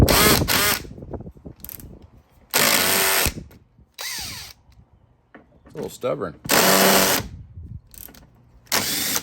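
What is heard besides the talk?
cordless drill driving a screw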